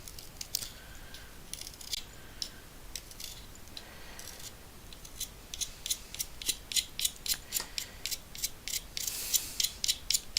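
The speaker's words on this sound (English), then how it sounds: "Just sharpening the pencil." A pencil being sharpened by hand, short scraping strokes that come in irregular bursts and then speed up into a quick regular rhythm near the end, close and fairly loud, with no talking.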